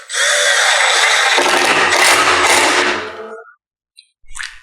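Power drill driving screws into the table feet of a LongMill MK2 CNC machine, a loud, close whirring that ramps up for a few seconds as the screw seats, then stops, followed by a brief clatter.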